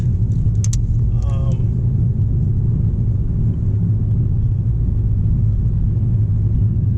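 A Mercedes-Benz C300 engine rumbles steadily and loudly from inside the cabin while accelerating, with a couple of brief higher chirps near the start.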